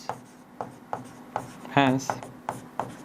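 Marker or chalk strokes on a classroom board during a maths lesson make a series of short, evenly spaced scratchy rubs. A voice cuts in briefly partway through.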